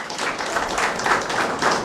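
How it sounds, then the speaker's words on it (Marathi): Audience applause at a municipal retirement ceremony, a steady wash of many hands clapping at moderate volume, continuous and fairly dense for the whole stretch with no voices on top. "म्हणून त्यांच्यासाठी परत एकदा टाळ्या झाल्या पाहिजेत"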